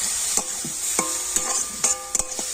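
Coconut and sugarcane jaggery filling being stirred in a pan, a steady soft hiss under repeated spoon scrapes and clinks at an uneven rhythm, close and moderately loud with no voices.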